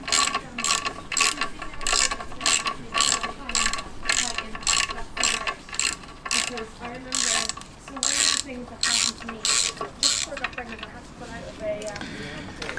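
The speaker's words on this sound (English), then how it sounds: "I'll ratchet it back on." A ratchet wrench clicks in quick repeated bursts while tightening bolts during a clutch replacement on a classic Fiat 500, each stroke a rapid run of sharp ratcheting clicks, close up, with brief pauses between strokes.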